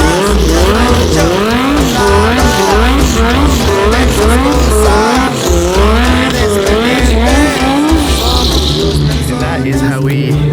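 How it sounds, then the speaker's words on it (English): A 2,000 hp Lamborghini Huracán does a burnout, its engine revving hard with steady, wavering pitch while the tires squeal and skid continuously. The sound is loud and close and runs for the whole stretch without talk. "And that is how we break in a car properly after we get done building it. I do a burnout."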